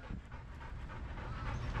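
A dog panting quietly close by, in quick, rhythmic, breathy puffs over a low rumbling background.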